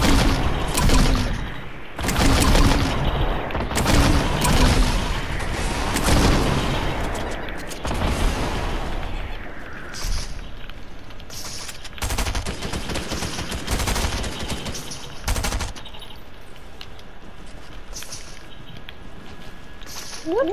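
Rapid, dense gunfire in the video game Fortnite, loud bursts and automatic volleys through the first half, thinning to scattered shots and occasional sharp reports later.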